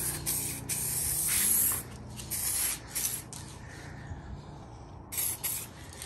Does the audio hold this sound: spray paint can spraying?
yes